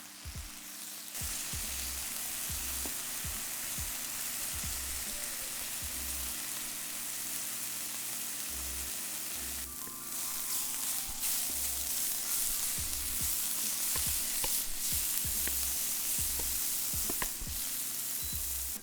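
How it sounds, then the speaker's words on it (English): Fresh spinach with a pinch of salt wilting in a splash of hot olive oil in a pan, giving a steady, even sizzle with occasional soft knocks and stirring. "with a pinch of salt, and cook until wilted"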